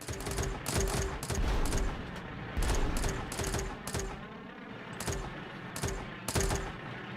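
Enemy gunfire in the Retro Tanks video game on Xbox One, a rhythmic series of sharp, evenly spaced shots popping over a constant busy game background, loud and repeated throughout.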